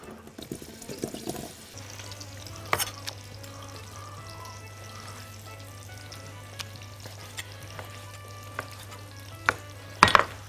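Chopped onion frying in olive oil in a pan: a quiet, steady sizzle over a low hum, with a few sharp clinks near the start and end.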